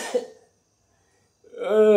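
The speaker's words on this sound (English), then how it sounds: "I cough like that, see, I feel sorry for me." A man lets out a short, rough cough at the start, then silence follows before a strained, voiced exhale or further throat sound rises at the end.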